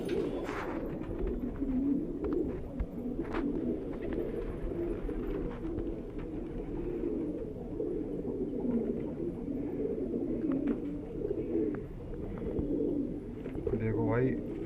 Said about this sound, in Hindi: देखो भाई ये वाली कबूतरी पकड़ी है अभी